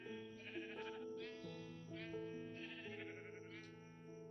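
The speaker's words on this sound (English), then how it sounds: "you just want to get yourself a few sheep in here" Sheep in the Minecraft video game give several quiet, wavering bleats in steady succession, a thin, evenly spaced series of game sounds with no talking.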